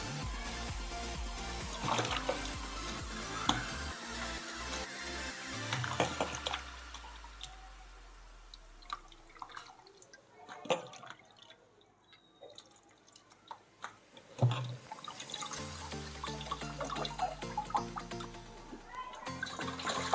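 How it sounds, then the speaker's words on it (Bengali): Ash gourd pieces being washed in water after soaking in lime, with drips and watery splashes coming and going over about twenty seconds, close by and fairly quiet, mixed with other background sound. "আমি এটা নিয়ে সাতবার ধুচ্ছি"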